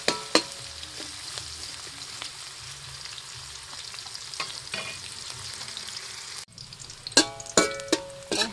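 Onion and garlic sizzle steadily in a pan while being cooked for squid adobo, with a continuous hiss and occasional clinks of stirring. Sharper scraping and spatula taps come near the end. Nobody speaks.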